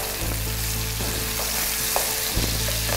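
Ginger-garlic paste, curry leaves and green chillies frying with turmeric in oil for a chicken dish, a loud broad steady sizzle with a low hum underneath and a couple of faint clinks, no voices.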